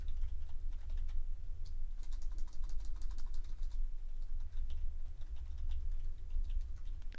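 A password is typed on a computer keyboard at close range, with rapid, irregular key clicks in short bursts over a low background hum and no talking.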